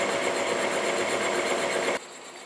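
A milling machine cutter cuts across a bronze bearing for a Vulcan Iron Works steam locomotive, producing a steady, dense whirring hum that drops abruptly in level near the end, with no speech.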